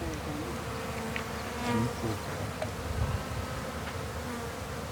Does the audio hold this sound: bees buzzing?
yes